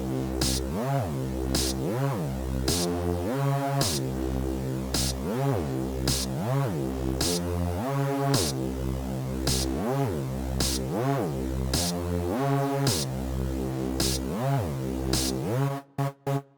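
Hip-hop beat with a simple snare pattern from a Logic stock drum kit under a bright, repeating lead melody and steady chords, loud and alone, cutting off abruptly at the end.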